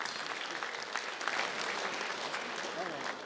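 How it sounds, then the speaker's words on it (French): Audience applause for an award winner at an innovation award ceremony fills the stretch: dense, steady clapping from a crowd, moderately loud and continuous throughout. "encore une fois, applaudissements pour Gavin"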